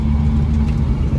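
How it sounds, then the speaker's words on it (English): Engine and exhaust note of a Bedford HA van while driving, a steady low, rumbling drone that is loud and close and carries on without a break, with no talk over it. "Got a nice little distinctive exhaust note, these little vans."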